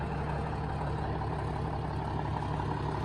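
Engine idling steadily with a newly fitted muffler, a close, even low rumble that holds constant throughout with no talk.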